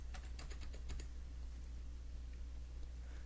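Quick typing on a computer keyboard while numbers are entered into a plotting program's settings, a burst of close, crisp key clicks in the first second that thins to sparse taps over a steady low hum.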